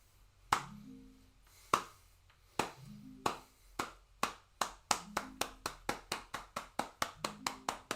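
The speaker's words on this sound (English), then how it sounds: "Let's do slow clap." Slow clapping by one person, sharp isolated claps spaced about a second apart that gradually speed up into a steady rhythm, close and clear in a quiet room.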